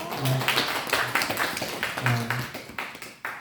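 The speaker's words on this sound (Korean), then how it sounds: "박수 한번 합시다" Church congregation at a Christmas service clapping together, a short run of sharp, close, uneven hand claps with a few voices murmuring underneath, fading toward the end.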